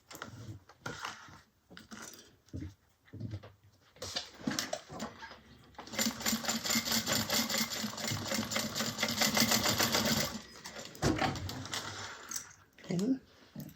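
A home sewing machine runs a quarter-inch seam through fabric placed right sides together, a fast, steady rattling whir lasting several seconds. Handling noises and a speaking voice come before and after it.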